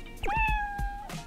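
A cat gives one drawn-out, clear meow with a falling pitch while eating in Dave the Diver, loud and close, with faint soft sounds around it.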